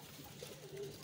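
Pigeons cooing at a loft in Faisalabad, soft low throaty coos rolling over one another in a steady murmur, fairly close and quiet, with no speech.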